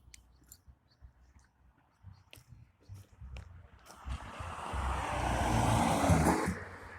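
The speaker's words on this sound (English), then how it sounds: "Let the car pass. We hear it coming." A car passes on a road beside a morning jog, its broadband rumble swelling from faint to loud over a few seconds, then cutting off, with light footfalls and rustling before it.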